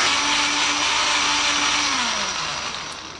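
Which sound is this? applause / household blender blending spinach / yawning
household blender blending spinach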